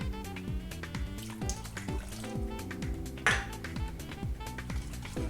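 Metal spoon clinking and scraping in a pan while stirring vanilla extract into pudding, rhythmic repeated taps close by with no voices.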